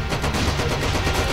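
Gunfire sound effect from a Sindhi film: a dense, continuous burst of rapid shots and blasts, loud and close with a rumbling low end, no speech heard.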